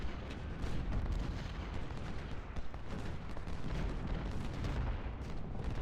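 Cannon and artillery fire pounds Federal guns in the video game Ultimate General: Civil War, a continuous distant rumble of booms and crackling volleys at moderate volume.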